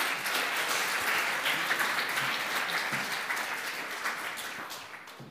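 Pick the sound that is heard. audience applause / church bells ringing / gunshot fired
audience applause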